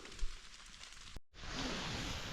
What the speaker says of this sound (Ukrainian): Дощ паде, почався дощ.